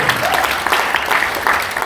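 A church congregation breaks into lively applause during a sermon, a brief, dense burst of clapping heard up close and fairly loud.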